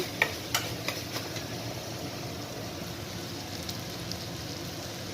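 Minced chicken frying in a pan while being stirred, a soft continuous sizzle with several sharp spoon clinks in the first second or so, then fainter scraping.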